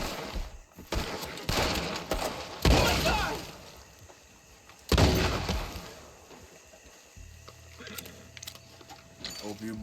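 Gunfire in the video game Red Dead Redemption 2: a few loud sharp bursts of shots spaced a couple of seconds apart, fairly close, over an ambient backdrop, with someone talking between them.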